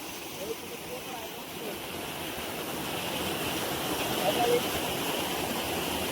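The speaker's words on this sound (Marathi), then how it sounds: "आहे धबधबा मस्त आहे ना" A waterfall at Dhanegaon dam pours in a steady, broad rushing roar that swells slightly toward the end, continuous and fairly close, with no other distinct sounds.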